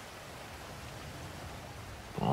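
Rain in the video game GTA V falls as a soft, steady hiss of drops, faint and continuous, with a louder rustle at the very end.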